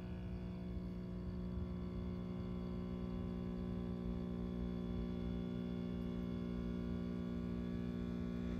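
A vacuum pump runs with a steady mechanical hum and strong low tonal bands, unchanged throughout at close range, drawing a water and glycerin mix through a filter.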